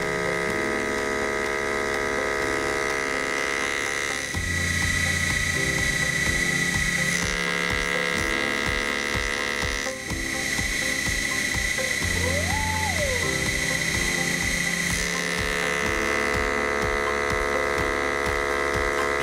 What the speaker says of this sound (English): It was making a woody knocking sound and cutting on the return pass.